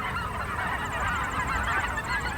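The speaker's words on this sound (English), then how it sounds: "There were Canada geese and white-fronted geese right here." A flock of Canada geese and white-fronted geese honks outdoors in autumn, a dense, continuous chorus of overlapping calls at steady loudness.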